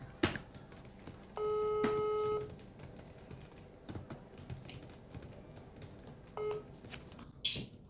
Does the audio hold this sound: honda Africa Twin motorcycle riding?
no